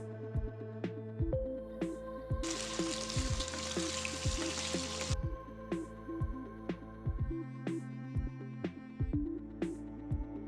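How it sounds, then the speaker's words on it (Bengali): Pieces of pointed gourd hit hot mustard oil in a pan, raising a loud, hissing sizzle that lasts a few seconds before cutting off, set against steady background music. "এবার কড়াইতে 3 টেবিল চামচ সর্ষের তেল গরম করে তাতে কেটে রাখা পটল হালকা করে ভেজে নিন"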